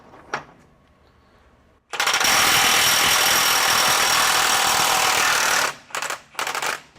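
RIDGID 18V 3/4-inch high torque cordless impact wrench hammering away in a long, loud, continuous rattling burst of nearly four seconds, followed by a few short bursts, very close.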